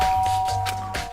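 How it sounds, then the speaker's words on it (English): A doorbell chimes in the video game Danganronpa Trigger Happy Havoc, a single steady electronic tone ringing clearly over a soft background hum. "I pressed the doorbell."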